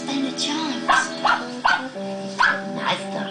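A dog gives several short barks and yips at irregular intervals over a steady background hum, with whimpering tones between them.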